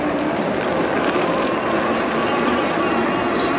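An electric Mukuta Knight Revi full-suspension e-bike climbs a hill on throttle alone with no pedaling, its motor giving a steady, loud whir mixed with wind rush close to the microphone throughout.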